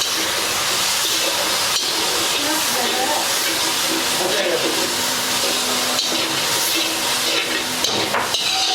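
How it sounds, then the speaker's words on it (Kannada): Onion, ginger garlic paste and tomato paste fry in a pan with a constant loud sizzling hiss, broken by occasional sharp knocks of a utensil against the pan, while a voice talks over it. "ಇದೆಲ್ಲನೂ ಸ್ವಲ್ಪ ಹಸಿ ವಾಸನೆ ಹೋಗೋವರೆಗೂ ಇದನ್ನು ಫ್ರೈ ಮಾಡ್ಕೊತಾರೆ"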